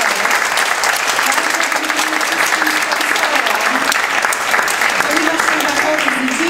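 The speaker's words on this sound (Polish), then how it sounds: "bardzo dziękuję, ogromne oklaski" Loud, sustained applause from an audience at a festival for people with disabilities, a dense continuous clatter of many hands clapping close by, with a voice faintly underneath.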